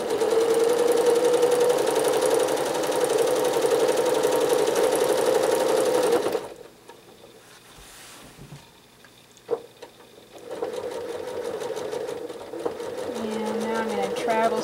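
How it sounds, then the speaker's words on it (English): A sewing machine runs steadily during free motion quilting of flowing paisley lines, loud and close, then cuts out into a quiet pause with a brief clack before resuming its fast, even whir. "I'm going to stitch a couple flowing lines back to back"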